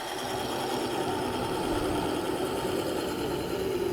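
A wood lathe spins an egg cup blank as it is about to be parted off, giving a steady, even motor hum with a faint buzzy vibration throughout, close and continuous without talk.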